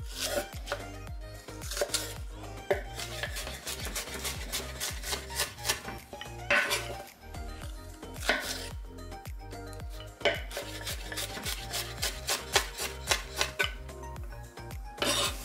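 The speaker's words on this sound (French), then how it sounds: "on va du coup venir découper ail, échalote et le gingembre. On y va pour la découpe et l'épluchage" Garlic, shallots and ginger being peeled and chopped on a board, a close run of sharp, rapid knife taps and clicks in uneven bursts, with occasional utensil clatter and no talking.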